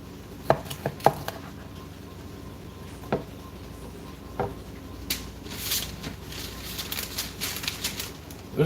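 Meat being cut by hand produces a few sharp knocks and scrapes against a board, spaced out over a quiet background, with soft rustling and handling noises building toward the end.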